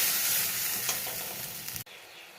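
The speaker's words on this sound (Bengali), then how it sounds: "দিয়ে খুব ভালো করে মশলাটাকে কষিয়ে নেব" Spice paste (masala) sizzling and frying in a pan with a little water added, a steady close hiss that cuts off abruptly near the end.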